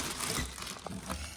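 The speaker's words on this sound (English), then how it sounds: "they got it in a nice, neat little plastic bag" A quick, quiet crinkling of a plastic bag, close by and brief.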